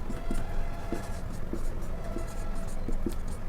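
Marker or chalk scratches on a board during a maths lesson, a string of short scraping strokes that come in small clusters over low room noise.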